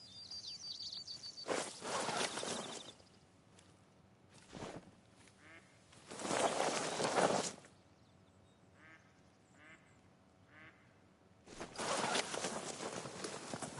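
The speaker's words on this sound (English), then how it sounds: "I hear the ducks, but I don't see them." Ducks quack overhead in the hunting game The Hunter: Call of the Wild, with soft, distant quacks between louder bursts of rustling and movement in an otherwise quiet outdoor scene.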